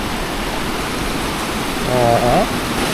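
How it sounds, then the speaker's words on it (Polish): A waterfall swollen after rain roars in a steady, loud, even rush of falling water, with a short voice briefly heard over it near the end. "I stąd można już podziwiać drugi wodospad."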